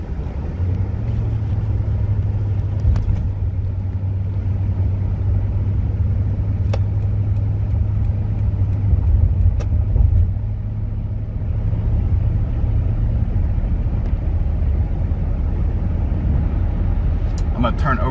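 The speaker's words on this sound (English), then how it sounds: "It's shifting through all the gears perfectly." A 2006 Toyota Tundra SR5 with a 4.7L V8 runs with a steady low engine drone and road rumble as it shifts through the gears, the tone changing midway; someone talks over it at times.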